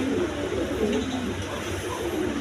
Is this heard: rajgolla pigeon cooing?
yes